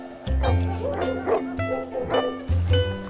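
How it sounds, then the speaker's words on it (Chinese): A small dog barking during a meal at a roadside skewer stall, several close yips and barks in short bursts with whimpering between them, over a quiet background. "他只是狗叫，不是鸡叫"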